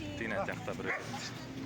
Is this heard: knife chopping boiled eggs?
no